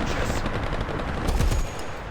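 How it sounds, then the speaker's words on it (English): Bursts of tank machine-gun fire in War Thunder, from the ZT3A2 tank during a battle, rattling continuously amid loud combat noise with a heavier thump near the middle. "Still got our machine gun."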